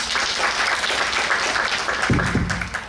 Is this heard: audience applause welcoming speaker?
yes